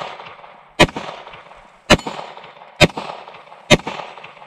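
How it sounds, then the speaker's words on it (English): Four sharp pistol shots ring out at a quick, even pace, each one striking a steel target with a bright metallic clang that decays briefly before the next. "Now I'm just shooting too quick"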